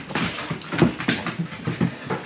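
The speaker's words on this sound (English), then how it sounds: "There you go, dogs." Dogs at a South Australian campsite whimper and pant in short, irregular bursts close to the microphone, with a few soft whines rising above the rapid breathing.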